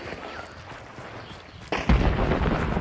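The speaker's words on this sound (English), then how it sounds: "Yep, she's where the explosion is." An explosion in a video game bursts out with a sudden low boom partway through, followed by rumbling debris over faint background game ambience.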